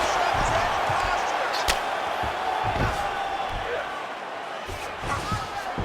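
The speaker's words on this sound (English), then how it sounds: "big pop from the crowd as they get back to their feet" A UFC arena crowd roars steadily through a fight as the grapplers get back to their feet, a loud continuous mass of cheering with scattered thuds and shouts mixed in.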